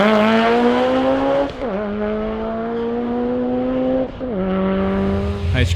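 A black Evo street racing car accelerates hard through the gears, its engine note climbing steadily with two clear shift breaks, loud and close throughout with no talk.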